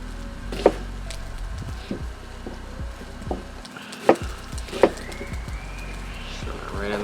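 Red onion being chopped with a knife on a cutting board: a few sharp knocks, with several fainter taps between them, in a quiet kitchen.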